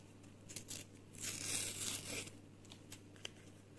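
Handmade paper surprise shaped like an elder wand being torn open, soft crinkling building to a close ripping tear mid-way, then faint rustles, all quiet against a low hum.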